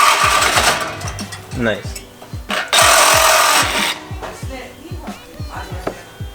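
A power tool cutting through the exhaust of a BMW F30 328i for a muffler delete, bursts of harsh grinding and rapid rhythmic chattering up close, with brief pauses and a voice speaking now and then.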